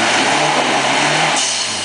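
An off-road 4x4 labours on a green lane, its loud engine droning steadily and close, then shifts pitch as it changes gear near the end.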